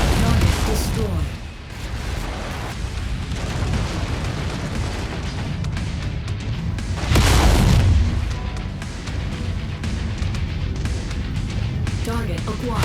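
Explosions from targets being destroyed in MechWarrior 5 Mercenaries: heavy booms and crackling blasts over a constant combat rumble, with one loud, close detonation midway, while a voice speaks over the action.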